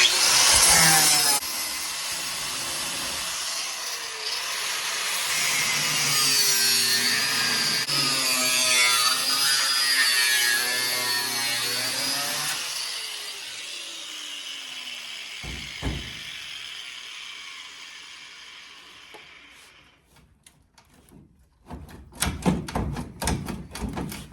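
A power tool grinding and cutting through spot welds joining a car's quarter panel to its rocker panel, a loud sustained metallic whine for about twenty seconds, then stops, followed by scattered clanks and sharp knocks.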